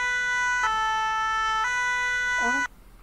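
A loud two-tone fire engine siren from the game ARMA 3 switches pitch a few times before cutting off abruptly near the end, leaving quiet background.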